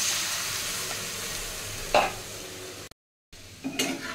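Cumin powder and grated ginger are sautéed in a pan over medium gas, a soft continuous sizzle with a couple of brief utensil scrapes and a short gap of silence before the frying resumes.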